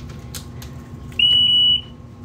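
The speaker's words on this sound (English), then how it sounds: "So, two beeps, unlock," Boat key fob unlock signal on a 2020 Pursuit OS 355 Offshore cabin fishing boat: a loud, clear electronic beep tone, broken into two or three quick pulses, rising over quiet background hum.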